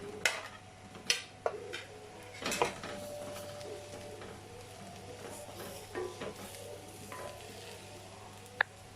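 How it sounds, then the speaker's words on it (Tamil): Fried baby potatoes being stirred into masala in a pan, with a spoon scraping and clanking against the metal in several distinct knocks over a low, steady sizzle. "இப்போ நம்ம வச்சுருக்க ஃப்ரை பண்ணி வச்சுருக்க பொட்டேட்டோவை ஆட் பண்ணிடலாம்."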